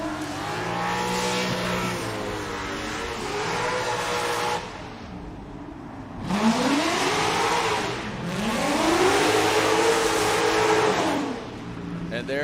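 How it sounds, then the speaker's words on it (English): A Formula Drift Ford Mustang drift car sponsored by Roush Performance and Falcon Tire revs loudly at a competition event, its engine rising and falling in long sweeping pulls with a brief dip midway, under a commentator's voice. "let's listen to the Roush Performance Falcon Tire Ford Mustang"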